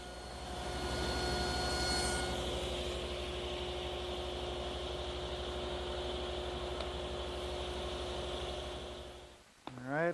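A table saw blade nibbles away wood at half lap joints, giving a steady loud whirring drone with a sharp cutting onset, then winding down and dropping off near the end.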